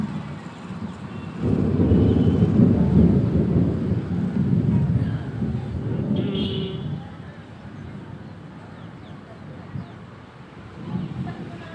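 A long low rumble of thunder rolls in and slowly fades, with a fainter rumble near the end and faint background noise.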